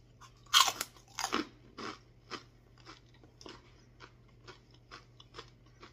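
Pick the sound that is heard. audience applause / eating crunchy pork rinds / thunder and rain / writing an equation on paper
eating crunchy pork rinds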